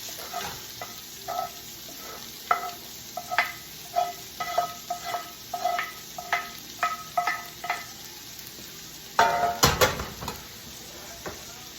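Rice and red beans stirred in a pan, a steady series of soft scraping strokes at an even rhythm over a faint sizzle, with a louder clatter near the end.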